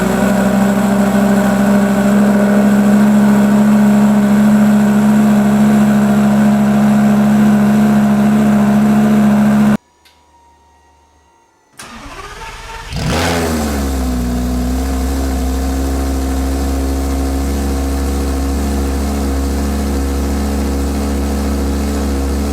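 A Lamborghini Superleggera with a straight pipe exhaust, loud and close, idling at a steady drone, cutting out briefly, then restarting with a sharp rev and settling back into a heavy, sustained idle.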